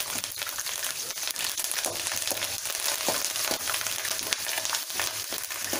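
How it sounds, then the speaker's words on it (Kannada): Green chillies and curry leaves frying in hot oil, a steady close crackling sizzle with occasional stirring scrapes and no voices. "ಹಸಿಮೆಣಸಿನ್ಕಾಯಿನ ಎಣ್ಣೆನಲ್ಲಿ ಚೆನ್ನಾಗಿ ಬಾಡಿಸ್ಕೋಬೇಕು"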